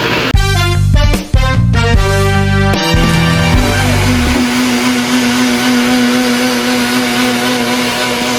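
A blender purees tomatoes, its motor whirring loudly in several starts and pulses, with brief stops, before settling into a steady, continuous drone.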